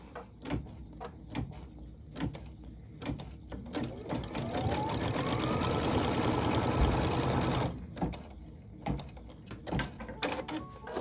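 A sewing machine stitches along a marked line on a foundation-pieced flying geese quilt block set in an embroidery hoop, with short bursts and handling noises first, then a steady continuous run of several seconds before stopping.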